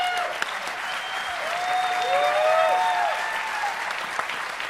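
Comedy-show audience at DEFCON 19 claps in a steady, fairly loud wash, with a few sliding whistles rising and falling above the applause midway through.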